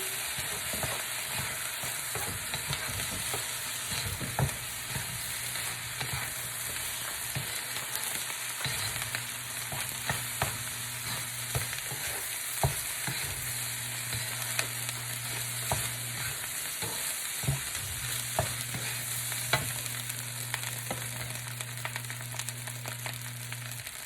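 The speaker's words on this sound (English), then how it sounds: "I'm going to stir that all in." A mirin and sugar sauce for sesame chicken is stirred in a hot pan, giving a steady soft sizzle with scattered scraping and tapping from the spoon.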